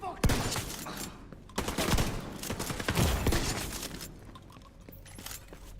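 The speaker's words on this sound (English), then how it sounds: "Using a shotgun from across the hallway is purely a choice." Shotgun fire in The Division 2 video game sounds in realism mode, with loud, dense bursts of blasts echoing down an indoor hallway, clustered over several seconds before thinning out.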